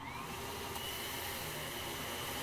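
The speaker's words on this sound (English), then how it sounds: "I wake up to the sounds of a distant vacuum cleaner." A distant vacuum cleaner in the video game Anodyne 2 drones steadily, a muffled, continuous whir that stays at an even level throughout with no voices.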